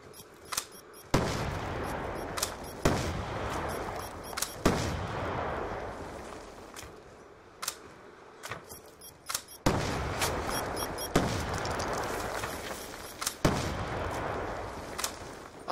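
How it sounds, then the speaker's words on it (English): Gunfire in the video game Black Ops 2, heavy booming shots repeating at intervals of a second or two, each with a long rumbling tail, loud and dominant with no talk. "I'm definitely aiming and shooting."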